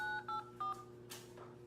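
Three short two-tone keypad beeps from a telephone dialing pad ring out clearly and evenly as a PIN is keyed into an automated EBT benefits phone line, followed by a brief rustle and softer noise.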